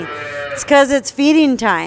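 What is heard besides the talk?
calves mooing and bellering at feeding time in calf barn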